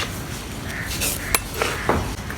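A spoon clinks against a pot a few times as sugar goes into a fruit custard mixture, with sharp, close metallic taps spaced irregularly and no talking.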